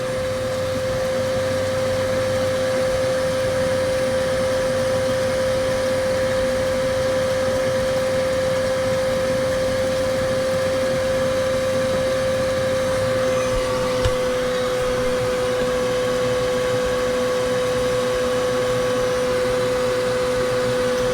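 Pump drawing water through hoses out of the hull of a Nitro Z6 boat, a loud, steady droning whine with a constant pitch that holds unchanged throughout, no talking.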